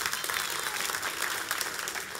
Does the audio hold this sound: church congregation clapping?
yes